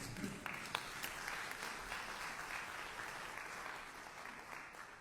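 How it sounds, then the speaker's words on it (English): Applause from the audience at a senior scam prevention summit, a sustained even wash of clapping heard at a distance, faint and steady throughout. "We can give that a round of applause."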